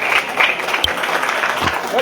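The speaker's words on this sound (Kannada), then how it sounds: "ಗಟ್ಟಿಯಾಗಿ ಚಪ್ಪಾಳೆ ಹೊಡೆಯೋದಾಗಲಿ." Sustained applause from an audience at a Kannada church sermon, a dense steady wash of clapping that fills the whole moment with no voices standing out.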